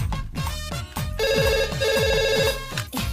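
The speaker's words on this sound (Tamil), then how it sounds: "இப்ப போன் எடுக்கலனா ரிங் அடிச்சிட்டே இருக்கும்." A mobile phone ringtone plays a bright repeating electronic melody, close and clear, with a rhythmic beat underneath and no talking.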